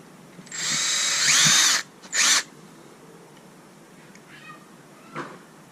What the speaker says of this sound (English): I'm starting with a little bit smaller than normal drill bit, drilling pilot holes